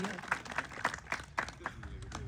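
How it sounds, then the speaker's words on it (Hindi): An audience at a police training school CPR session applauds, producing a faint, steady patter of clapping heard from some distance. "के लिए जोरदार तालियां।"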